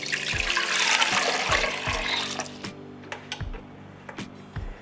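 Water pours steadily into a cooking pot holding sugar, a bright continuous splash for about two and a half seconds, then trailing off into scattered drips and low clunks of the pot.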